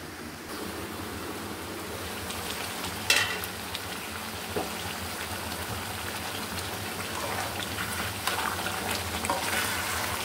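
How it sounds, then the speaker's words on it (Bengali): Beef braising in a kadai as it gets stirred over and over, giving a steady sizzling hiss with the odd louder scrape of the spoon against the pan. The noise stays close and fairly even throughout, and nobody speaks. "মাংসটা বারবার নেড়ে দিতে হবে, তাহলে ধরে যাবে।"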